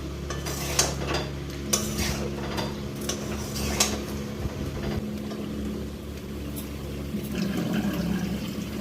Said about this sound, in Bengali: তো এখন তরকারি রান্না করছি, অর্ধেক রান্না হয়ে গেছে